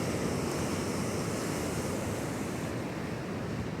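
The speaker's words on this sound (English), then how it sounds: "ocean's pretty violent" Pacific Ocean waves crash steadily onto a narrow beach in Rosarito, a continuous loud roar of rough surf with wind across the microphone and no voices.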